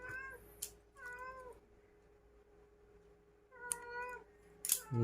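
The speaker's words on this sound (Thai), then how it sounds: "จะแมวมาร้องอยู่หน้าบ้านนะครับ" A cat meows outside in front of a house, a few separate mid-distance cries with quiet pauses between them and a sharp clatter near the end.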